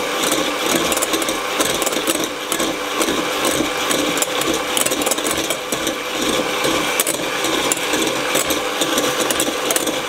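An electric mixer whisks egg whites for chiffon cake at a higher speed, a steady, dense whirring buzz that runs on without a break.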